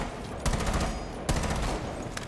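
Bursts of gunfire in Rainbow Six Siege, two sharp loud volleys about a second apart with a fainter shot at the end, over a dull in-game background hum.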